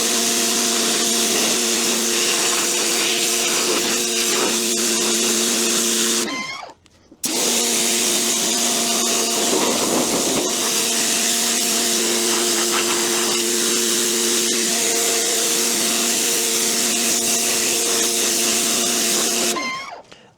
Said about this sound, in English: let's go ahead and see if we can get this moss stuff off with this pressure washer